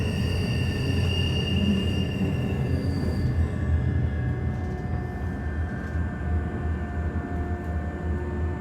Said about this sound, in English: Here, the Bernina Express sometimes resembles a tram.